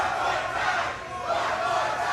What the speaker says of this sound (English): You heard the CCW faithful getting behind Braza.